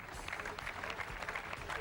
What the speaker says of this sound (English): And that jaded applause for Mika.